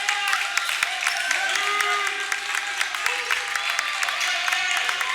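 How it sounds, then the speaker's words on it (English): A high-school boys' basketball crowd at a prep school gym cheers during a one-point game, a steady roar of voices with scattered claps and shouts, loud and continuous throughout. "Crowd getting into it here."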